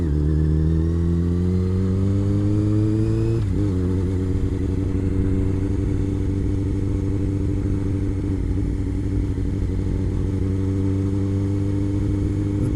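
Motorcycle engine revving hard and steady during wheelie practice among buildings, a loud close drone that climbs in pitch for a few seconds, dips abruptly, then holds a sustained high rev.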